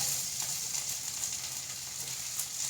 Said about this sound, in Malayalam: ഉഴുന്ന പരിപ്പ് നന്നായിട്ടൊന്ന് മൂത്ത് വരട്ടെ